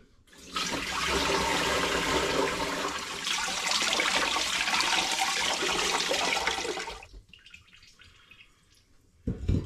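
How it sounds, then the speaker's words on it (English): Ginger liquid for a home-brewed lime and ginger lager pours through a colander into a bucket, a loud, steady rushing splash lasting several seconds before it trails off into drips, with a brief clunk at the end. "So I'm straining it with the colander."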